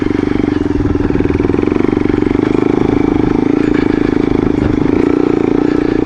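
A Yamaha XT225 motorcycle engine runs close and loud at a steady, even idle with a constant throb, heard alone in a backyard setting.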